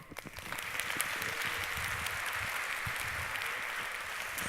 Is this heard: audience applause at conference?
yes